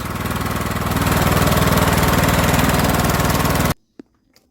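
Cub Cadet LT1045 lawn mower with a Kohler Courage engine running at a steady, loud, close rumble with a fast pulsing beat for nearly four seconds, then cutting off abruptly, leaving a couple of faint clicks.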